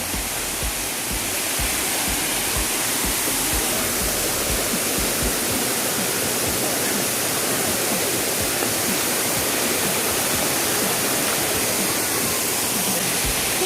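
Salatdai waterfall in Nakhon Nayok roars in a dense, constant rush of falling water, loud and unbroken from start to finish.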